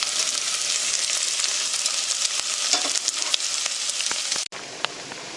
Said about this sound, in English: this is the crab boiling